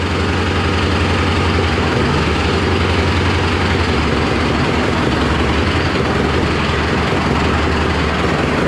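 A Mahindra tractor engine runs steadily after a cold start, a loud, continuous close-up diesel drone with an even low throb and no voices.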